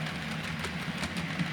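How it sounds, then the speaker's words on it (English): A Class 25 diesel locomotive on a model railway layout hauls a mail train of post office vehicles and parcel stock, giving a steady low rumble with faint rhythmic clicking throughout. "here we see a Class 25 hauling the up mail train"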